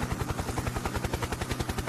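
Toy helicopter in flight, its small rotor giving a steady, rapid whirring chop that pulses evenly and fairly loud throughout, close by with no talking.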